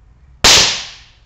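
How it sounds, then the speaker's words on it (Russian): A homemade match-and-foil ball bomb bursts under a hammer blow on a brick: one sharp, very loud bang after a brief quiet moment, followed by a fading hiss and ring over about a second. "взрыв очень громкий"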